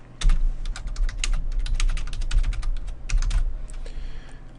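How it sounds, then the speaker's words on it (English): Fingers tap out a sentence on a computer keyboard in quick, uneven clicks and clacks, close by and steady for several seconds with brief gaps, no voice. "I'm going to type in another sentence."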